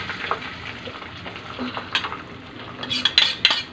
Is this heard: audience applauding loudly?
no